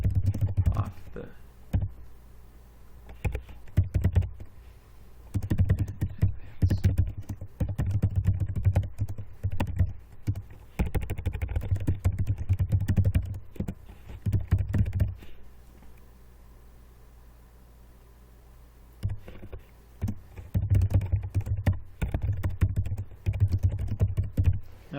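Bursts of rapid clicking keystrokes on a computer keyboard while writing code, with pauses between runs and a quieter stretch mid-way.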